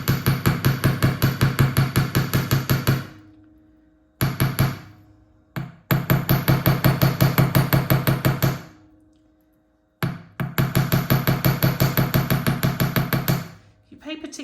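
Metal hammer striking a wire hook for a wire-wrapped gemstone bracelet: three bursts of rapid, even taps, loud and close, separated by short pauses.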